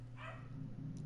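A dog barks once indoors, a short nearby yap rising over a steady low hum, with no talk.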